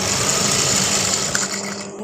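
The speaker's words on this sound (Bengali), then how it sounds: "যে এবার আমি ড্রেসের বডি সেলাই করব।" A sewing machine stitches the body of a dress, its motor and needle whirring loud and steady close by, slowing and easing off near the end.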